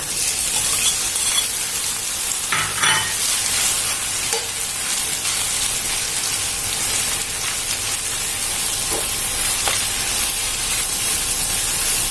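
Rice and kimchi stir-fry in a pan with garlic browning in oil, giving a loud, constant sizzle broken by occasional clinks and scrapes of a spatula, with no voices.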